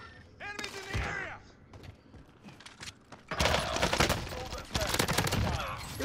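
Bursts of rapid PPSh-41 submachine gun fire in Call of Duty on Rebirth Island, loud and sustained in the second half and broken into shorter volleys earlier, with game effects and talk mixed in.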